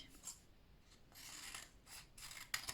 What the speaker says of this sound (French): je vais volontairement découper le contour de la fleur pour éviter au maximum les plis